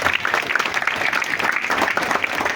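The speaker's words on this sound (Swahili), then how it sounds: "Tujipigie makofi." An audience claps together in a steady, dense patter for the full stretch, moderately loud and close, with no one speaking over it.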